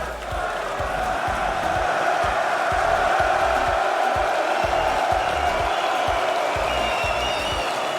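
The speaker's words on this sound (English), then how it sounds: "This crowd is electric." A large arena crowd at an RLCS Rocket League major quarterfinal roars and applauds in a dense, continuous wash of cheering and clapping that holds steady throughout, loud and enveloping with no clear speech.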